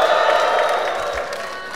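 A live crowd at a rap battle between Lanzeta and Zaki shouts and cheers loudly in one sustained roar that tapers slightly, with some clapping mixed in.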